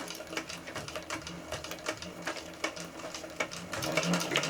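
A sewing machine stitches through backpack fabric within a 3/8 inch seam allowance, a rapid rhythmic clatter of needle strokes running steadily close up and alone.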